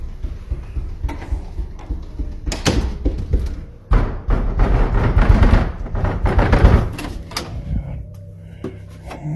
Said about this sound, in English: Bangs coming from the basement door can be heard, and Wynn's son asks, is it real?